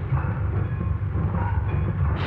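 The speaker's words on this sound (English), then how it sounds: "See that train down there?" A train rumbles in a railroad yard in an old film soundtrack, a steady low dull rolling rumble with no talk over the short stretch.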